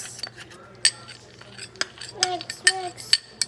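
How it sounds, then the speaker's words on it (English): Stirring a baking mixture with white chocolate chips in a bowl, irregular clinks and scrapes of a utensil against the dish, fairly close, with brief bits of voice. "Mix, mix, mix."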